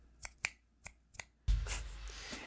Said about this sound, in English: Let me get some finger snaps.